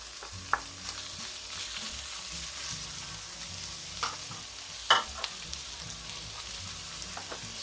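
Flaked grilled fish sisig sizzling in a pan while being tossed, giving a continuous close frying hiss with a few sharp spatula clacks against the metal.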